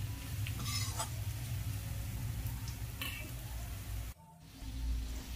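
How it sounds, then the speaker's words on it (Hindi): Green pea dal being stirred and roasted in a pan, giving a low steady sizzle with soft scraping and stirring scuffs and occasional light clinks, briefly dropping off near the end. "उसको अच्छे से चला के भून लेंगे हम"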